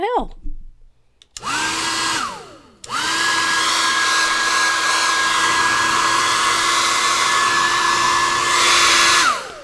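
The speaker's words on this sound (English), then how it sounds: "my heat gun just quit. First of all, it was never that loud. And it's blowing nothing but cold air." Malfunctioning heat gun blowing only cold air while drying white paint for painted lilies; its loud, steady whine starts, cuts out briefly, then restarts and runs continuously up close.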